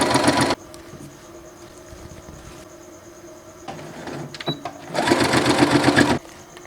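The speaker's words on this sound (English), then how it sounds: "I'm gonna go ahead and sew on all of the number tags" A sewing machine stitches number tags onto hats, running in two loud, steady bursts with quieter handling and rustling between them, close by and with no talk.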